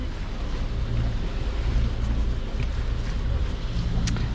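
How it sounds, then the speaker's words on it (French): A sailboat motors through choppy sea with more waves than wind, a steady low engine drone under continuous rushing water and wind buffeting, with faint knocks near the end. "Je suis au moteur pour l'instant parce qu'il y a plus de vagues que de vent."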